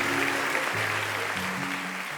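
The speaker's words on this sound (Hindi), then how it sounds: "ज़ोरदार तालियां इनके लिए बजाइएगा" Loud applause at a live ghazal festival concert, a dense, even wash of clapping with sustained tonal hums from instruments underneath.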